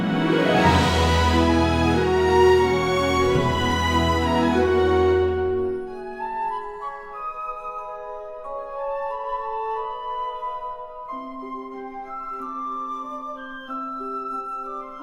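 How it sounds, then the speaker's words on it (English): An AI-generated magical orchestral fantasy soundtrack opens with a bright, dense swell, then drops to a clear, high bell sequence of ringing repeated notes that carries on alone. "I've chosen a soundtrack which has magical orchestral fantasy starting with a spectacular high bell sequence"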